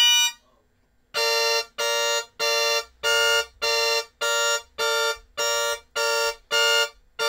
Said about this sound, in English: If I were to play a 3-note chord twice, you'd hear the chord change.